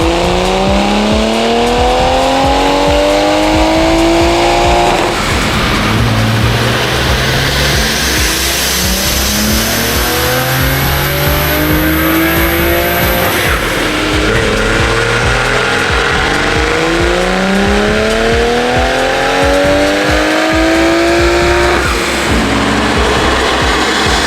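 A Toyota Supra engine built to about 591 wheel horsepower revs hard on a dyno during E30 fuel tuning. It climbs through the gears in loud repeated sweeps that rise in pitch, each pull followed by a brief drop.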